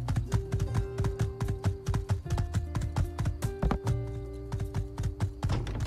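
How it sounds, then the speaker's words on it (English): Horse hooves clip-clop steadily in the video game My Time at Sandrock, a close, brisk rhythmic clatter of hoofbeats continuing throughout over a soft background tone. "I'm actually surprised the horse is still here."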